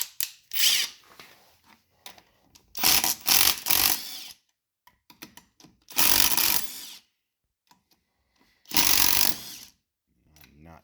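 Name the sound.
removing lug nuts from Polaris Sportsman 850 ATV wheel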